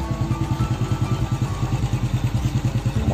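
Old Honda EX5 motorcycle engine idling close by, a steady loud chugging pulse with light mechanical clatter and no talk.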